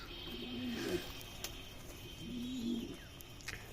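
Racing pigeon squabs coo twice in low, rolling calls, fairly near, over a faint background hum, at a pigeon farm.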